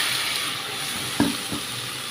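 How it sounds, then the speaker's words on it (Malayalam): Sliced tomatoes dropped into browned onions frying in oil for a squid roast, a steady hissing sizzle with two brief louder bursts as pieces hit the pan, close and unaccompanied by voices. "നമുക്ക് നമ്മുടെ രണ്ട് തക്കാളി ഇതേപോലെ നീളത്തിലരിഞ്ഞിട്ട് ഇട്ടെടുക്കാം"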